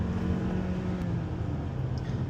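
A 2026 Hyundai Palisade Hybrid accelerates hard with a steady, rising engine drone heard from inside the cabin, continuous and moderately loud.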